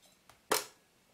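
Rolleiflex 3.5F twin-lens reflex camera with Carl Zeiss 75mm f/3.5 lens firing its shutter, a single sharp close mechanical click after a faint small tick, then quiet.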